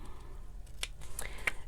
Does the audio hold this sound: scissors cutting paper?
yes